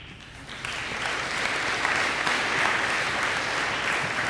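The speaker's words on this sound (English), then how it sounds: "let's keep applauding for our high school golf team" An audience at a high school spring sports awards ceremony applauds the golf team, with steady, dense clapping that starts a little softer and then holds at full strength.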